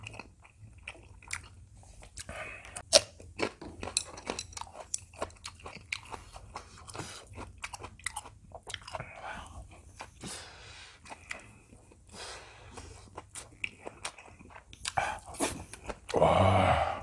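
Crunchy biting and chewing on a spicy chili pepper during a Korean home-style meal, with repeated close mouth sounds, wet smacks and short gasps, ending in a louder burst of noise.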